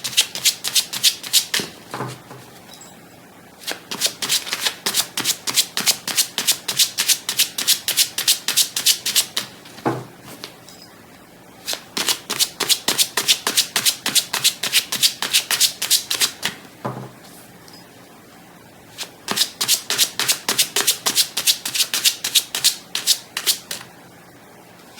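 Lenormand cards are shuffled by hand for a tarot reading in three long bursts of rapid, crisp riffling clicks. Short quiet pauses separate the bursts, and the sound is close and clear with no talking.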